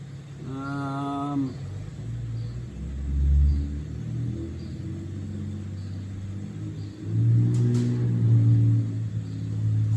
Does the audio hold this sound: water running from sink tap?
no